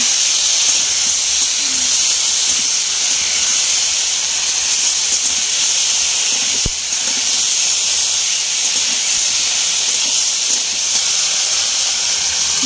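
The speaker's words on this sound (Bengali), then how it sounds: "একবারে আদা বাটা, জিরে বাটা, তারপরে তোমার টমেটো পেস্ট আছে, আর আছে দুটো এলাচ, একসাথে মশলাগুলো দিয়ে দেবো। মশলাগুলো দিয়ে কষিয়ে নেব।" Constant loud hiss of spices frying in hot oil with potato and pointed gourd, including ginger paste, cumin paste, tomato paste and cardamom, a steady close sizzle with one brief click.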